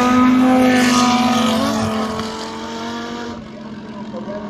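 An Audi R8 LMS GT2 race car accelerates hard on a circuit, its engine a loud, sustained rising drone that shifts pitch and slowly fades as it pulls away.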